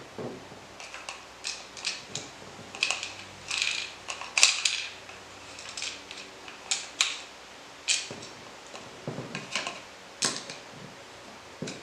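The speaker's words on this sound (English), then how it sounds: "Once you do that, we can go ahead and put our grip bolt back in there." A rifle grip bolt is being put back in after a drop-in trigger install, heard as a string of light metallic clicks, taps and ratcheting handling noises, close and fairly faint, with no speech.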